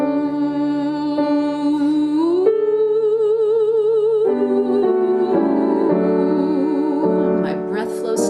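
A singer holds a steady sustained tone through a straw, then takes the straw away mid-note and glides smoothly into an open oo vowel. The voice is close and continuous, with a slow pitch rise and a gentle wavering vibrato near the end.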